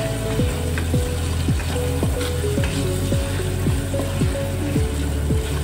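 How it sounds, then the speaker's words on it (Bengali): Dal dry-frying in a pan for Bengali khichuri gives a loud, even sizzling hiss, with a series of repeated falling tones sounding over it. "এবার ভেজে নেব ডালটা।"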